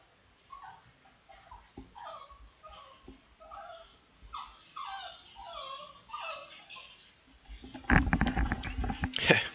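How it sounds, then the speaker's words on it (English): A distressed dog whimpers and yips in a string of high, plaintive cries, close by and fairly quiet, ending in a louder burst of rustling and handling noise. "so the dog she's borrowing is upset"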